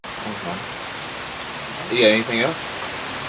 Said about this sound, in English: Not that the rain will permit.